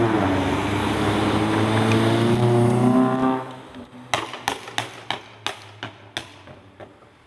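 Blue Chevrolet Kadett, one of the last of the line, revving then backing off, its exhaust firing a rapid string of sharp crackling pops, about eight loud bangs in a row after the engine drone drops away.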